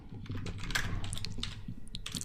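Typing HTML code on a computer keyboard, with a quick run of light, close key clicks clattering over a low steady hum and no talk.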